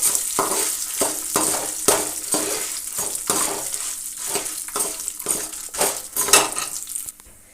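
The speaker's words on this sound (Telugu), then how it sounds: "ఎండుమిరగాయలు వేసుకుందాం." Dried red chillies sizzle and crackle in hot oil in a pan while a utensil repeatedly stirs and scrapes against the metal, giving a steady frying hiss with rhythmic clinks.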